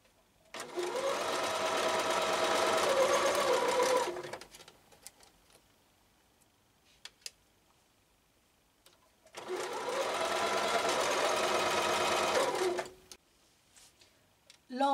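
A sewing machine stitches a denim apron hem in two steady whirring runs of about four seconds each, close and loud, separated by a quiet pause with small clicks as the presser foot is lifted.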